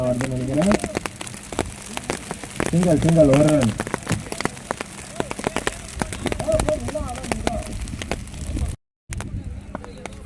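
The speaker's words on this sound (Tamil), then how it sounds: "ஸோ பயங்கரமான மழைலாம் வந்துட்டு இருக்குங்க." Heavy rain pours down during a cricket tournament match at Vengalapuram, a dense steady patter with scattered sharp drops, heard under continuous talking throughout.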